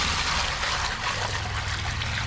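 Water poured from a container into dry concrete mix, a continuous splashing, gurgling pour heard close up for a couple of seconds.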